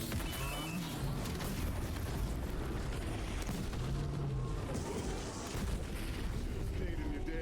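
Launcher explosions in Black Ops 7 arrive as a dense stretch of heavy booms and crashing impacts, loud and continuous, with occasional game voices mixed in.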